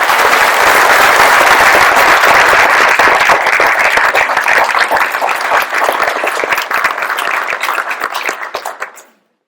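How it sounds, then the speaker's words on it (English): A sustained round of applause fills a hall at a Minnesota National Guard signing ceremony, loud dense clapping from a large audience that holds for about nine seconds before fading out. "So I would just ask that we all give her a round of applause."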